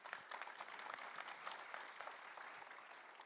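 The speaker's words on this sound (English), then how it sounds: "Can you give them a warm round of applause?" Audience applause at a seed industry panel session on gene editing, a steady dense wash of many hands clapping at moderate distance, fairly quiet and even throughout with no voices over it.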